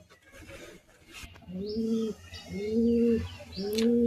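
Pigeons from a collection coo nearby in three deep, rolling calls at a steady pace, with faint chirps and soft background noise.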